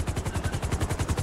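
Rapid rhythmic thudding of helicopter rotor blades in the video game GTA 5, loud and close, a steady fast chop with engine whine, no voices.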